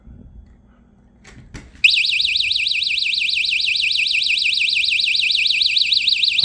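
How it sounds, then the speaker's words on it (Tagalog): A magnetic door contact alarm: a loud, continuous warbling electronic tone starts abruptly after a couple of seconds of quiet background noise and sounds steadily until the end. "once we move this magnetic lock away from the magnet, the contact will close and the alarm will sound"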